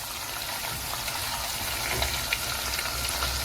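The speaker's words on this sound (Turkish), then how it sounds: "salçalarımız biraz kavrulsun" Tomato paste sizzles and fries in a hot pan at the start of a vermicelli soup, a continuous, even, close hiss with light crackles and no talking.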